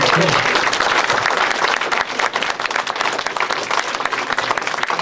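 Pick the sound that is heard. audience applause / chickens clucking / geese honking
audience applause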